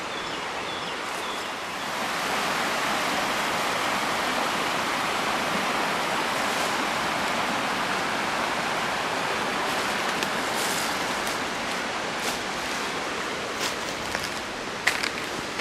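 Arbuckle Creek rushes through a narrow, steep side gorge in New River Gorge National Park, making a steady, dense roar of whitewater that holds constant throughout with no voices.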